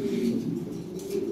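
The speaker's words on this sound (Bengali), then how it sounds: "এই যে এখানে এক জোড়া ইন্দোনেশিয়ান পটার আছে" A pair of young adult Indonesian pouter pigeons coos in a low, continuous, throaty murmur close by, with no voices over it.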